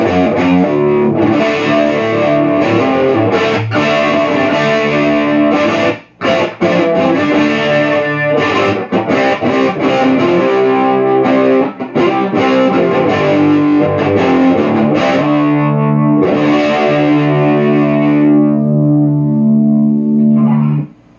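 An electric guitar played through a Rowin DAP-2 multi-effect overdrive pedal with every control at maximum on the bridge pickup: loud, heavily distorted chords and riffs ringing with sustain and brief breaks between phrases, alone without talk.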